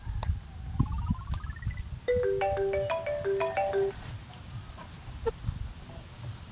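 A cellphone rings with an incoming call, its bright melodic ringtone tones repeating for a couple of seconds in a quiet room, with faint background noise and clucking farm fowl nearby.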